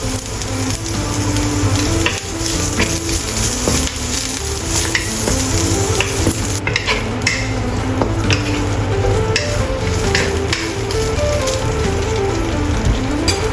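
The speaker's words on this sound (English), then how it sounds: "Fry the sausage until it is fragrant. No need to add cooking oil because the sausage will release oil." Chinese sausage frying in a pan with no added oil gives a loud, dense, steady sizzle and crackle, like rain on a hard surface. It is close and continuous throughout, with scattered sharper pops and no voices.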